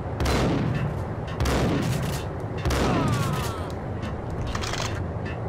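Gunfire rings out in the Max Payne video game as heavy bursts of shots crack and boom in quick succession, loud and close, with echoing tails between volleys.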